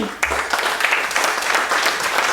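An audience applauds loudly and steadily at a music performance, a dense wash of many hands clapping together that carries on throughout without letting up.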